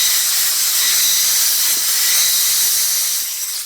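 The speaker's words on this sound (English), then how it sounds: "I'm just going to use my air hose." An air hose blasts compressed air into the bolt holes of a used small-block Chevy cylinder head, a loud, steady, close hiss that holds for several seconds before easing off.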